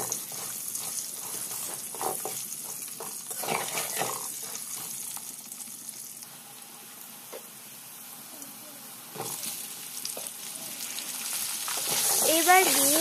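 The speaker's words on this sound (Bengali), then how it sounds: "আলুগুলোকেও খুব ভালো মতো ভেজে নিতে হবে।" Potatoes frying in oil with black cumin for a rui fish curry with flat beans, a soft sizzle broken by stirring and running-water-like hiss that rises toward the end.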